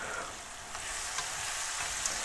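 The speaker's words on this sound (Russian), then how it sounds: "Видите, осталось только кипящее масло на дне сковородки." Steppe oyster mushrooms fry in boiling oil in a skillet, a steady close hiss and crackle with occasional faint scrapes of stirring, no voices.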